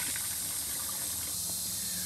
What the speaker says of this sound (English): is turn the water back on